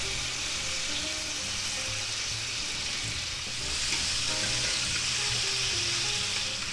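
Butter melting and sizzling in a hot pan for a thick chuck steak, a loud steady crackling fry with fine popping and spatter throughout, close by and unbroken, with no talking.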